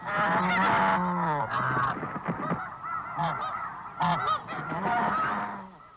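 A blue goose (snow goose) at an Arctic nesting ground gives loud, close, repeated honks in quick irregular bursts, with other geese honking around it and no talk.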